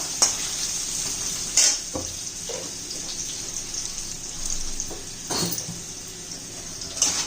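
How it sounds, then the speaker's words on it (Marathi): Raw mango pieces sautéing in oil with a pinch of salt, a steady close sizzle and hiss running throughout, broken by a few soft clinks and scrapes of a spoon stirring the pan. "चांगलं एक दोन मिनिट परतून घ्यायचं"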